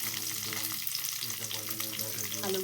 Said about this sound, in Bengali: কড়াইতে তেল দিয়ে দিয়েছি এর মধ্যে এবার পাঁচ পাঁচফোড়ন দিয়ে দিলাম পাঁচফোড়ন এবার আলু দিয়ে দিলাম